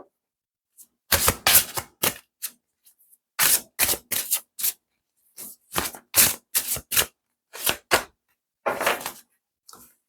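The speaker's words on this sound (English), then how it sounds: "Let me get an oracle card for Cancer." Oracle cards are shuffled and handled in a quiet room, with crisp irregular bursts of card flicks and slaps separated by short silences, close to the listener.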